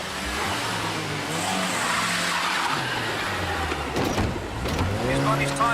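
A car engine starts and the car speeds off, its revving rising and its tyres squealing in a loud burst while someone talks over it.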